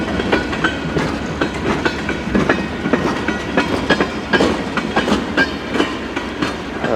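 A CN eastbound freight train rolls past close by near Emmett, Michigan, with a loud, steady clickety-clack of wheels over rail joints and a continuous rumble. No voices are heard.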